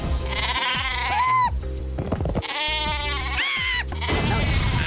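Loud, repeated bleats from the sheep weapon in the Worms Reloaded video game ring out over thumping game music, several wavering cries in quick succession with short breaks between them.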